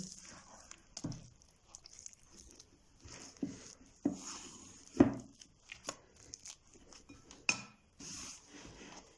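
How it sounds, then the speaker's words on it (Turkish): Soft dough with salt is kneaded by hand on a surface: irregular soft thumps, presses and slaps with short pauses between, close and fairly quiet. "hamurumu yoğurmaya başlıyorum"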